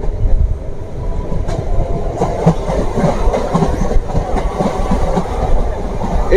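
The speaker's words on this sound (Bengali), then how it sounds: "আমাদের ট্রেন মুর্শিদাবাদ জংশন রেল স্টেশনের দিকে যাচ্ছে" A MEMU train on the Kasimbazar–Azimganj line rolls toward Murshidabad Junction station with a loud, steady rumble and a clickety-clack of wheels over rail joints throughout.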